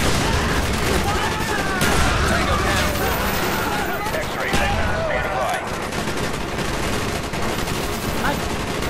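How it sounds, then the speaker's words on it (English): Dragon's breath incendiary shotgun blasts roar through a dense Call of Duty: Black Ops firefight, loud and continuous, layered with other gunfire, explosions and battle noise while voices talk over the din. "This dragon's breath is insane still."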